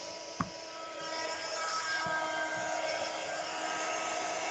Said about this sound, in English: I'll do this with the heat gun, and we'll see if that works as well as the torch.